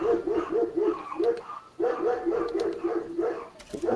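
Several dogs bark in repeated bursts of woofs and yips, fairly loud and close, with a short gap partway through before the barking resumes.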